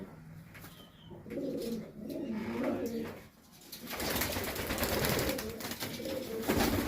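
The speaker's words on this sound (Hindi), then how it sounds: "और टॉप कबूतर हैं भाई" High flyer pigeons coo softly in a loft, low repeated calls against a faint background, with someone talking and rustling noise building toward the end.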